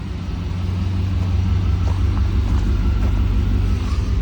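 A low-mileage 1989 Pontiac Firebird Formula idling, a deep steady rumble with a strong low drone held evenly throughout, close and loud, no talk over it.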